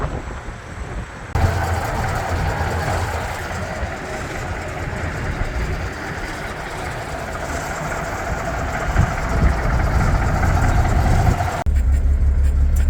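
1980 Kenworth truck, parked in a garage for 20 years, its engine running after a cold start with a rough, dense rumble that holds steady and loud close by, with no talking over it.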